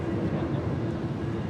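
A KLM airliner on flight 601 from Amsterdam near LAX, a steady low jet rumble with a sustained drone, moderately loud and heard on its own.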